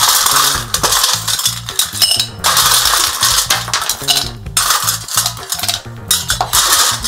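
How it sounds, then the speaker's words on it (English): Ice cubes are dropped and rattled into a metal cocktail shaker, giving loud, dense clinks and clatters that continue for several seconds, close to the microphone. "first we're going to get some ice in the shaker."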